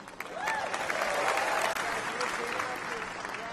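A crowd at a political convention applauds steadily and loudly during a speech, with cheering voices and faint shouts woven through the clapping.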